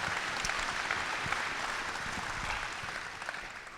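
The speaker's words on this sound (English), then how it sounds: "How about another round of applause for Nate and Bob from Morse Manufacturing?" A dinner audience gives a round of applause for two guests at an annual manufacturing dinner, a dense, steady clapping that holds evenly throughout and eases slightly at the end.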